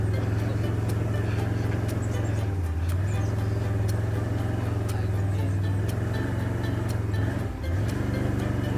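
A 4-wheel drive vehicle crawls over tree roots on a wooded track, its engine droning steadily and close with brief dips as the wheels bump over obstacles.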